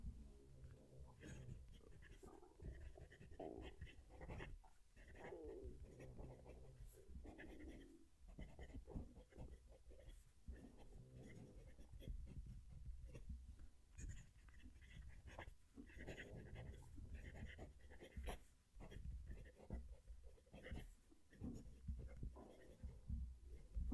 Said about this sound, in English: I'm going to move the mic down to the paper so you can hear the pen write.